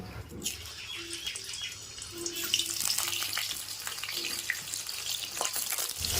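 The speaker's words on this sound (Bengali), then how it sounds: "তেলের মধ্যে আলুগুলিকে দিয়ে ভেজে নেব" Potatoes frying in mustard oil in a hot wok, a soft sizzle with stirring clatter and faint drips, swelling after the first second and staying steady and fairly quiet.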